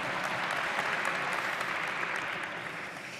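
Audience applause at a business forum interview with Luis Lacalle Pou, a dense steady wash of many hands clapping that stays loud throughout and eases slightly at the end.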